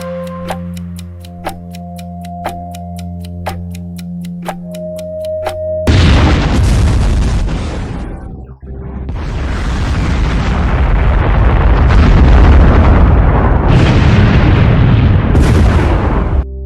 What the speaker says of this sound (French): À 11h02, la bombe Fat Man, utilisant du plutonium et d'une puissance de 21 kilotonnes de TNT, explose au-dessus de la ville